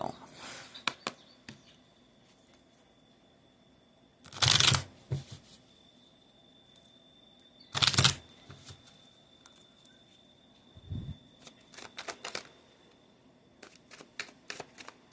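Tarot cards being shuffled in two loud, brief riffling bursts a few seconds apart, with lighter taps and handling of the deck in between and no talking.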